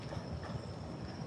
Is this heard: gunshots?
no